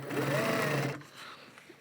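Sewing machine stitching a shopping bag, a fast buzzing whir for about a second that then stops, leaving quiet room noise.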